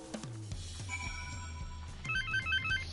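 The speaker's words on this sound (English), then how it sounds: "Ah! Phone!" Phone ringtone in Final Fantasy XIV, a melodic electronic chime pattern with repeating high notes, fairly soft over a low game music bed, no talking.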